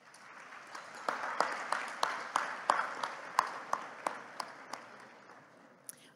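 Audience at an award dinner claps in steady, separate sharp claps that stand out above a soft room wash, moderately close, fading toward the end with one last clap.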